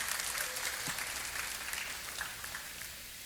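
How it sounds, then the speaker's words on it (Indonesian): A church congregation at a Hillsong Indonesia service claps for the worship team, a steady even wash of applause from a large room, sustained throughout and tapering slightly at the end. "Tepuk tangan buat tim yang ada,"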